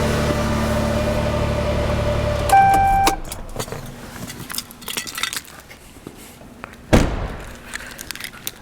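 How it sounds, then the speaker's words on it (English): A Lexus with a stalling problem idles with a steady low engine hum, then shuts off abruptly around two and a half seconds. Brief electronic chime tones follow, then quiet cabin clicks and one loud thump. "Let me shut it off before we suffocate, me and Jose."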